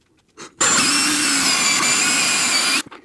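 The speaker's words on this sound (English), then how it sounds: "We have our 4 holes drilled into the studs through the cleats" A power drill running on a steady high-pitched whine for about two seconds, boring a hole through a wall cleat into a stud during a heavy-duty TV mount installation, starting and stopping abruptly after a brief faint noise.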